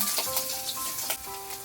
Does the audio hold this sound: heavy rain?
no